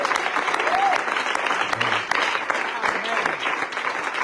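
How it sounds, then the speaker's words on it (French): A church congregation applauding together, a dense, steady wash of clapping that stays loud and close throughout with some voices mixed in. "Est-ce qu'on peut acclamer aussi?"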